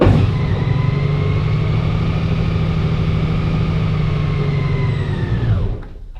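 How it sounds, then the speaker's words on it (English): A Honda Goldwing motorcycle engine runs at a steady, smooth idle close by, a continuous low hum that cuts off abruptly near the end. "I just wanted to show you guys that the Goldwing is running."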